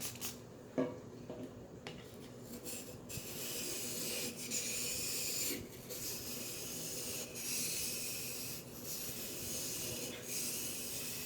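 A knife blade is stroked along a whetstone, producing a steady, continuous rasping scrape that holds close and fairly even for most of the stretch, with a few brief pauses between strokes.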